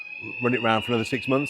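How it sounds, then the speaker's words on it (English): A fire alarm test rings as a steady high electronic tone running continuously beneath someone talking close to the microphone. "That's the fire alarm test to keep you guys safe for the weekend."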